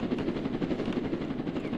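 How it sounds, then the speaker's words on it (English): Rapid rhythmic rotor chopping of a helicopter in a Roblox game, loud and steady throughout with no voices over it. "He sees my helicopter, helicopter."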